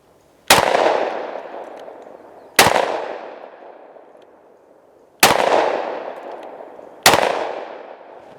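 Four loud, sharp gunshots from a Smith & Wesson M&P 2.0 10mm pistol firing copper rounds, spaced irregularly a couple of seconds apart, each cracking sharply and then ringing out in a long decaying echo.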